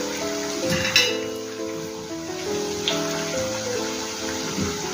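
Alu wadi, rolled colocasia leaf slices, frying in a pan with a soft continuous sizzle and occasional spatters, tonal background music sitting over it, no talk.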